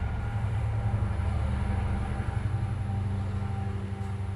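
A train passing by, a loud continuous low rumble with a steady mechanical drone that holds throughout without breaks, heard alone with no talking.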